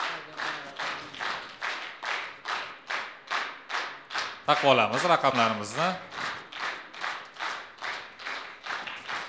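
Children at a young readers' contest, ages 10 to 14, clap together in a steady rhythm, close and loud. A brief spoken announcement breaks in partway through, and then the even beat of hands starts again.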